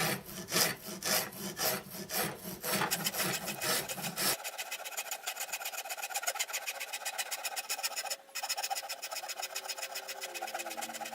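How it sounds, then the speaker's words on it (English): Rhythmic scraping and rasping of a hand tool whittling wood, strokes repeating steadily, then a lighter, higher scraping continues without pause. "we just slowly work away, whittle away at the wood"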